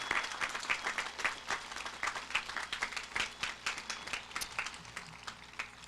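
A crowd at a Memorial Day ceremony at Abraham Lincoln Cemetery breaks into steady, moderately distant applause, many hands clapping in an even patter for several seconds with no talk over it.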